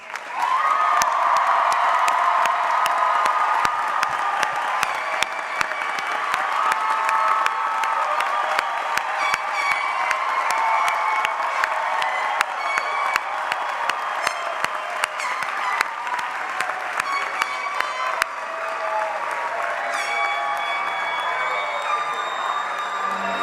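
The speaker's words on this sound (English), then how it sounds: "should we give this one and only 50th anniversary graduating class another round of applause?" A large crowd at a college graduation ceremony applauds and cheers the 50th anniversary graduating class, sustained clapping with whoops and shouts over it, loud at first and thinning gradually toward the end.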